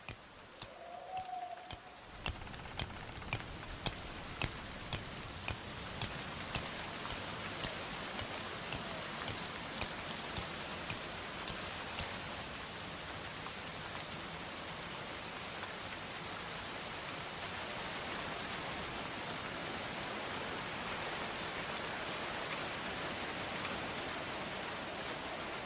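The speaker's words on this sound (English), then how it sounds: "Well, at least it's raining now." Rain in a medieval city builder game, opening with a few soft ticks and then settling into a steady, even hiss of falling rain that continues unbroken.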